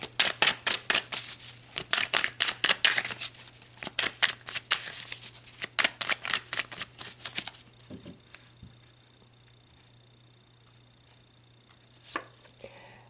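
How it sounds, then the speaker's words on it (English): Tarot cards are shuffled close by in quick, crisp riffling bursts, then the shuffling stops and a few soft, isolated card slaps and taps follow in near silence. "All right, let's pull some cards."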